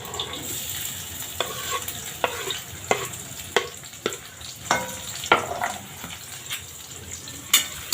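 Chopped onion sautés in hot oil with asafoetida and green chilli for a dry sprouted moth bean usal, sizzling steadily while a spoon stirs and scrapes the pan in repeated sharp clicks, close and clear with no talking.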